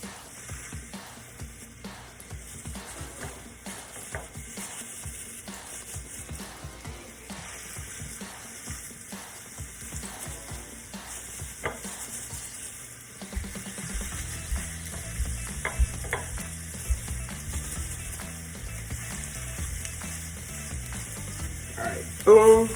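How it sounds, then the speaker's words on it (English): Turkey burger patties frying in hot oil in a pan, a continuous crackling sizzle that grows louder and busier once the patties go in partway through, with occasional handling clatter. "Our oil is nicely heated. We're gonna go ahead and add our patties."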